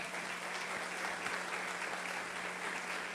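A church congregation applauds at a Portuguese-language evangelical service, steady dense clapping filling the room throughout with no break.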